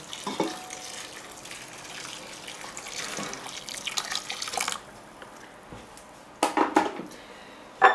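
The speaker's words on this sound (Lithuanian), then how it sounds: "Užpilame verdančių vandeniu." Boiling water pours steadily into a pot of lamb testicles for several seconds, then stops, followed by a few clinks and clatters of handling.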